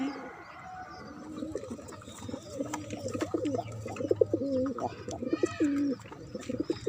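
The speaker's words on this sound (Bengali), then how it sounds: "এদিকে আরো কবুতর আছে।" Pigeons coo repeatedly at close range in a rooftop garden, the soft throaty calls rising and falling over a low steady hum, with brief chirps in the background and no talking.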